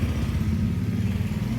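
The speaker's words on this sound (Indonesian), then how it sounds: "Suara knalpot khas Depok." Motorcycle exhaust on a street in Depok, a steady low rumbling engine drone that stays loud and close throughout the short stretch, with no voices over it.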